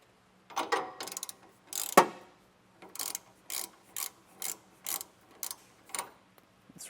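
A hand ratchet rapidly clicks in a series of short, close bursts, loosening the nuts and bolts on a sway bar bracket of a 2020 Thor Four Winds motorhome, alone without speech.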